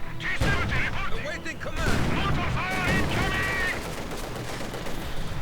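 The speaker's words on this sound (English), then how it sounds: "Soviet mortar crew continues to fight, getting mortared by the Germans" Mortar and gunfire crackle through a video game battle between Soviet and German forces, with dense bursts, booms and rapid shots layered close together while a voice talks over the fighting.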